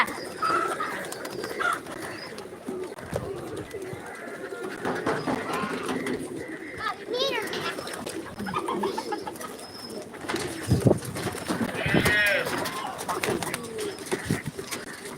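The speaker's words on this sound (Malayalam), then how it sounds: "എല്ലാ പ്രാവും വരുമ്പോ നോക്കാം" Pigeons coo steadily and close by as they gather to eat scattered food, soft throaty calls repeating over a busy background, with no one speaking.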